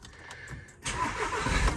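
A 2020 VW Crafter van's diesel engine cranks briefly and then catches, settling into a loud, close rumbling idle after a short whirring start.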